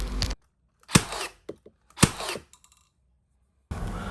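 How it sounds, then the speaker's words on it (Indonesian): Two sharp, close snaps from an INGCO CBNLI5008 cordless brad nailer driving nails into wood, each followed by a brief mechanical rattle and a smaller click, with abrupt handling noise at the start and end and no talking. "kita bisa berkali-kali nembak dengan hanya menekan triggernya"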